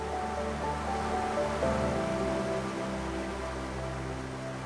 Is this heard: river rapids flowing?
yes